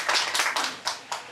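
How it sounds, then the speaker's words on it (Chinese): A small audience claps before a school-style music performance, five distinct, fairly sharp bursts of hand claps spaced unevenly over about a second. "我们给予热烈的掌声"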